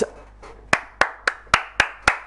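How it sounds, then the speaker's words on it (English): Hands clap seven times in a steady rhythm, sharp and close, a little faster toward the end, with no talking, during a FIFA 23 game stream. "Round of applause to myself."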